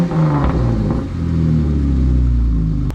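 A Jeep Wrangler JK engine fitted with a cheap Amazon exhaust, a loud close low rumbling drone that rises and holds steady like revving in the 3,000–4,000 RPM range, with no talking.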